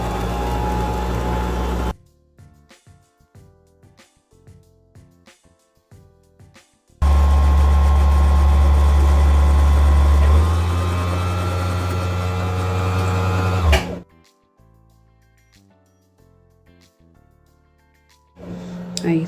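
A Singer M3220 sewing machine winds a bobbin with a loud, steady motor whir that runs for several seconds and then cuts off. Quieter mechanical clicks and handling noises come before and after it.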